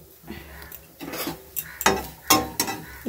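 Vegetables fry in a pan while a utensil scrapes and clatters against it. Several sharp metallic stirring knocks come in uneven bursts over a faint sizzle, close by.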